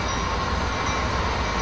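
A pair of 3,000-horsepower locomotives rolls along slowly, giving a steady, loud rumble and hiss with no breaks and no voices.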